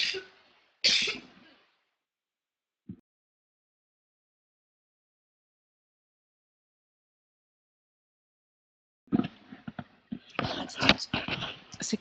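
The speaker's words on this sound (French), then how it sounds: "je vais tousser." A woman coughs a few times close to the microphone, two sharp bursts near the start and a brief throat sound, then a long silence before speech resumes.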